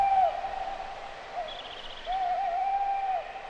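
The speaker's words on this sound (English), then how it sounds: "The only reply came from the wind in the trees and a distant, lonely owl." An owl hoots in the night, a distant, lonely call with wind moving through the trees. Drawn-out tonal hoots come twice, separated by a pause, faint and far off over a steady airy background.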